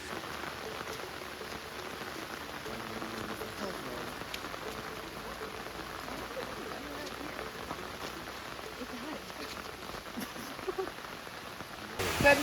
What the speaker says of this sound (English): You got a little bit of rain.